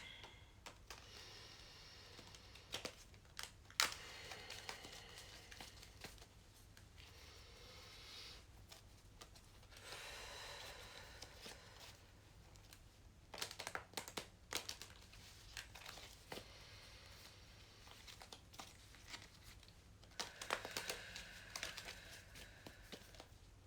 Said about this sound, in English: as I shuffle the cards